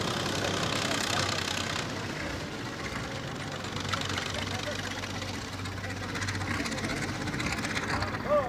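A car engine idles with a rough, continuous knocking rumble beneath people talking excitedly close by.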